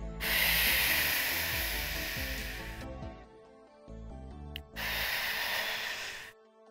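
Deep breathing during a yoga leg stretch: two long, loud, hissing exhales close to the mic, separated by a quieter pause with a quick intake of breath.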